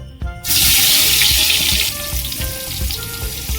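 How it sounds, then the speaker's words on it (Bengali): Chopped onions hit hot oil in a pan for a Bengali mutton curry, erupting into a loud, steady sizzle that holds close and continuous after a brief quiet start. "ওই তেলের মধ্যে আমি পেঁয়াজ কুচি দিয়ে দেবো"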